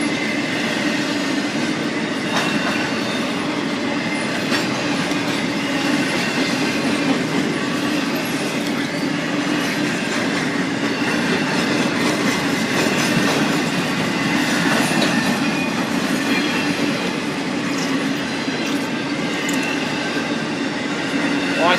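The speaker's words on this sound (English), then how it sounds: "I think I see the end of the train coming" A Norfolk Southern freight train of empty cars rumbles past close by, steady and loud, with rhythmic clickety-clack of wheels and occasional metallic squeals.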